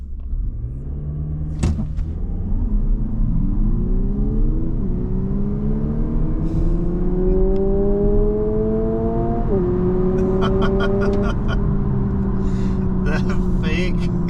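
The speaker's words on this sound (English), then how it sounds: "The fake exhaust note is so ridiculous." A 2025 Lexus UX 300h hybrid drones and rises in pitch as it accelerates, a smooth synthetic exhaust tone with stepped gear changes, faint clicks near the end.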